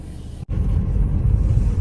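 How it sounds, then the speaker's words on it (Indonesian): A Mercedes-Benz C250 AMG W204 sedan on the road gives a low, steady cabin rumble after a brief silent cut near the start, with no talk. "Sekarang kita coba rasa berkendaranya C250 ini."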